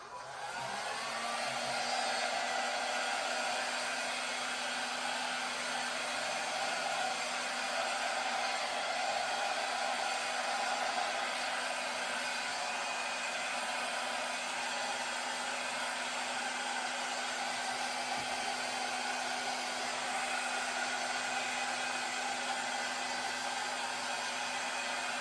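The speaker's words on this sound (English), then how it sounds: "I'm going to blow this out a little bit just to smooth it out." A hair dryer blows acrylic paint across a blow-out fluid art pour in blue flame colors, giving a loud, steady whooshing whine that runs unbroken throughout with no talking.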